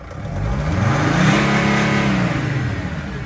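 A 2005 Freightliner Sprinter van's 2.7L diesel engine, warmed up and throwing a P0299 underboost code, revs up to a steady high-pitched drone held close and loud, easing slightly toward the end.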